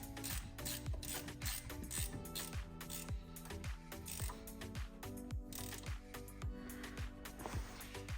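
Ratchet wrench clicking steadily as a bolt is tightened on the rear brakes of a 2001 Audi allroad, a close, rapid series of pawl clicks and metallic ratcheting that continues without pause.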